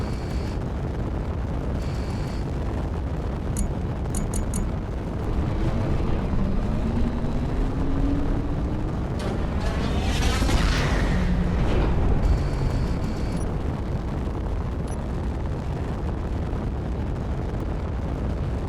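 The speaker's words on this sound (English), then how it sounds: "it's a Mac cannon from Halo." A Halo-style MAC cannon fires aboard a combat ship in Space Engineers, giving a sustained, heavy roaring rumble that swells midway into a sweeping, rising blast before settling back into a dense, loud drone.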